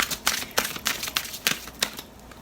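A deck of cards is shuffled by hand, giving quick papery riffles and taps in an uneven rhythm, close and moderately quiet, with no talking.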